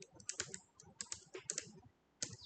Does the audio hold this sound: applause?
no